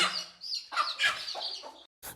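A hen that hatched thirty chicks clucks in a close, rapid run of calls, breaks off briefly, then lets out another short cluck.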